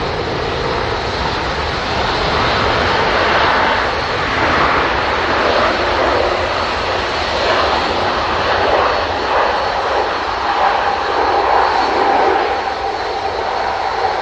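An airliner landing at Manchester Airport, its engine roar a loud continuous rumble and whine lasting throughout, heard from outside with no talking.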